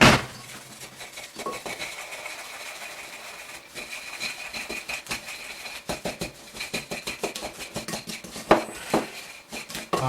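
Grated coconut and sliced almonds are mixed in a bowl, producing a busy run of scraping and clinking as the utensil repeatedly strikes and rubs the bowl, with close, uneven taps and no speech.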